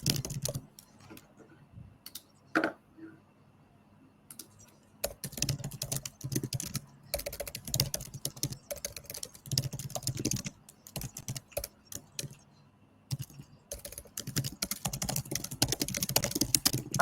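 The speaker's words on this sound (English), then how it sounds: "Someone is typing very loudly." Very fast, loud keystrokes clatter on a computer keyboard in dense bursts with short pauses, close and alone with no talking.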